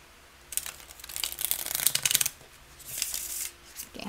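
Thick tarot cards riffle and flutter in two quick shuffling bursts, close up, with a soft pause between them.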